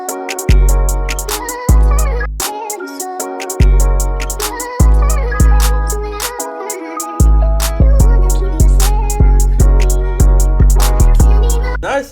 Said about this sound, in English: So I'm gonna go over a Jersey snap over here that sounds like this.